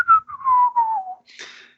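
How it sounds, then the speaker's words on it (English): A person whistles a short, clear tune that glides downward over about a second, then lets out a brief breathy hiss at the end. It is close and alone, with no talking. "And he whistles"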